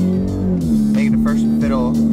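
A modified 2016 Dodge Dart with anti-lag, its engine holding a loud, steady droning note with a shift in pitch partway through, heard close from inside with a voice talking over it.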